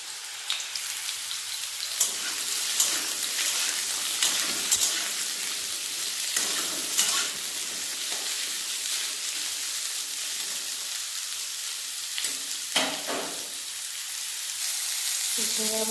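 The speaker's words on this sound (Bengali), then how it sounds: "তেল ভালোভাবে গরম হয়ে গেছে, তেলের মধ্যে দিয়ে দেবো কেটে রাখা ঝিঙেগুলো।" Sliced ridge gourd frying in hot oil, a steady dense crackling sizzle running throughout, with occasional louder spits and bursts of stirring.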